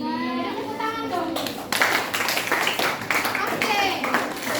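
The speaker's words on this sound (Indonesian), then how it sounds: "Tepuk tangan dong." Students in a classroom clap together after a teacher's prompt, with a brisk burst of many hands following children's voices, then clapping alongside overlapping chatter.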